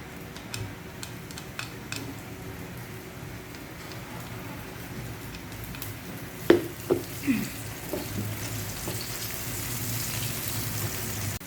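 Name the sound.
onions frying in a pan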